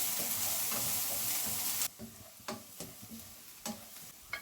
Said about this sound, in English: First add in onions. Just fry them about a minute.